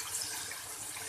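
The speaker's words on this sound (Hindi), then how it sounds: "अब जैसे कि 1 kg हमारे राइस हैं तो इसमें मैं पानी डाल रही हूँ।" Water poured from a glass into a pot holding about a kilogram of rice for daal chawal, a steady close splashing stream with no talk.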